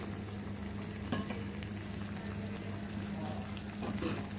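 Sliced onions go into a pan of frying vegetables for a Chinese-style egg and vegetable dish, giving a continuous low sizzle under a steady background hum, faint and even throughout, with no voices.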